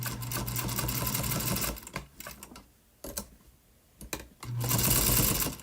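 Home sewing machine stitching with the presser foot down, a steady rapid mechanical whir that runs loud, drops to scattered clicks and handling noises in the middle, then starts up again near the end.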